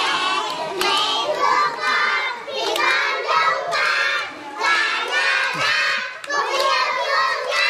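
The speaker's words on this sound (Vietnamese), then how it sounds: "Dạ, giỏi, vỗ tay đi, vỗ tay đi." Children in a highland village gathering clap and shout together in a noisy, lively crowd, cheering voices rising and falling over scattered hand claps throughout.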